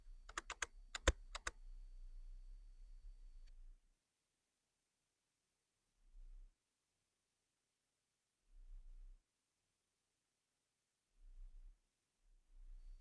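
A few crisp computer keyboard key presses, including the page down key, clatter in a quick cluster near the start, then the room goes quiet apart from soft low thumps.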